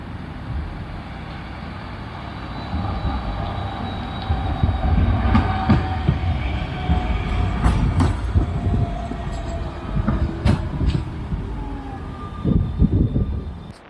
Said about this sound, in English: Got to see two trams, one in each direction.